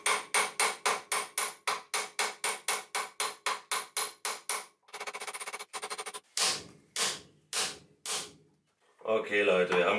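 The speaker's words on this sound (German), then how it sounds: "als das drauf zu hämmern. Tut mir sehr leid, aber es ist so." Sharp metallic hammer blows drive a bearing onto the output shaft of a Golf 2 gearbox, type 020, about twenty rapid close strikes followed by slower spaced hits and a final rattling clatter.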